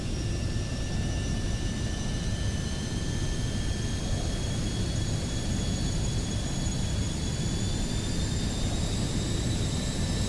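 A VSkyLabs 510X very light jet's engine in X-Plane 12 whines and roars steadily, its high tones slowly rising as it spools up, loud and continuous with no talking.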